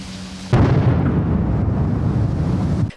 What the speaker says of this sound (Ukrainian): Під вибухи потужних снарядів